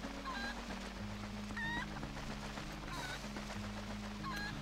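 Cucco chickens cluck in Zelda: Twilight Princess, short high squawking calls repeating about three times over steady game background music.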